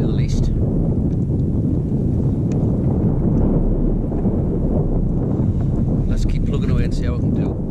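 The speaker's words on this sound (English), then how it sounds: "That wind's a bit of a pain" Strong wind buffets the microphone continuously on a boat during sea fishing, a loud low rumble throughout, with faint higher noises near the end.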